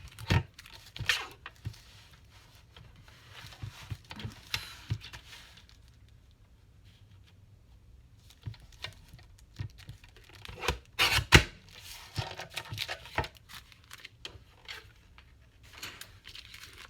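Paper being cut and handled for a junk journal with a panda and poppies theme, scattered scissor snips and rustles, close and fairly quiet, with occasional louder crunches and no voice.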